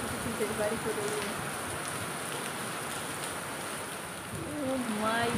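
Heavy rain pours steadily as a dense, continuous hiss throughout, during a monsoon downpour heavy enough for water to come inside.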